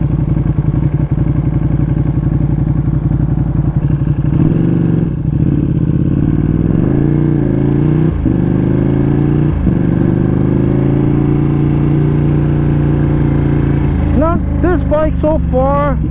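A Ducati Panigale V2 Bayliss motorcycle fitted with an Akrapovic titanium full race exhaust runs loud and close, holding a steady throaty drone that rises and falls in pitch with throttle blips. Someone talks over it.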